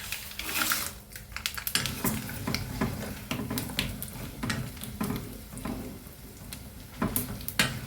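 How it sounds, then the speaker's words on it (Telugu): Mustard seeds and spices splutter in hot oil for Andhra-style lemon rice, a close, busy crackle of rapid irregular pops and ticks over a low sizzle, with no talking. "బాగా చిట్పట్టమంటున్నాయి"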